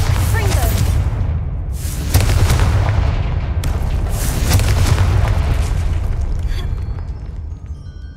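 A Bombarda spell explosion in Hogwarts Legacy, heavy booming blasts with a sharp burst near the start and rolling low rumble that fades out, loud and close amid battle noise.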